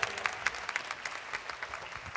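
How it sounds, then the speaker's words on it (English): An audience claps at a business meeting in Atlantic City, a steady run of close, moderately loud hand claps with no talk over it. "the partners should be clapping so that the guests can clap"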